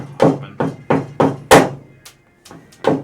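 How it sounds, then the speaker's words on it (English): A thumbtack being hammered in during a tabletop game session: a series of about eight sharp, close knocks in an uneven rhythm, with no talking over them. "see Harrison hammering it in"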